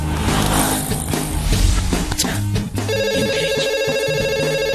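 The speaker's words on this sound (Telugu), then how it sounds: "ఈ ఫోన్ కాడే చేస్తున్నట్టున్నాడు" A mobile phone rings with a repeating electronic ringtone, loud and close, heard over street and traffic background noise.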